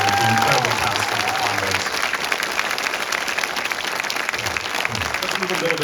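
A theater audience at a film festival screening gives the director and cast of a 2023 New Zealand film a sustained round of loud applause that fills the whole stretch, with voices faintly mixed in.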